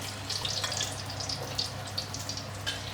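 Eggs frying in a small amount of oil for economy mee hoon give a steady soft sizzle with faint crackling pops, close and even throughout.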